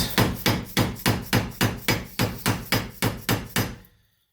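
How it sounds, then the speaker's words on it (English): A screwdriver being worked against a stuck car O2 sensor, producing about a dozen evenly spaced metallic knocks, loud and close, ending in silence. "I'm just gonna try and work the screwdriver around the edge here, see if I can get this one off."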